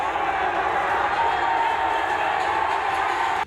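Unruly crowd roaring as it surges through the barricade at a gurdwara gate onto the road, a steady loud wash of many voices and shouts that holds level before cutting off abruptly at the end.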